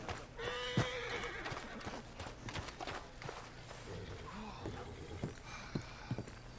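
Horses in a video game, Red Dead Redemption 2, whinny and hooves clop in a busy mix, with a steady low hum and scattered clatter throughout.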